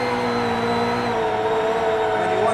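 Travis Pastrana's 862bhp Subaru rally car accelerates hard in third gear, its engine note climbing steadily in a loud, continuous close-up roar with no talk over it.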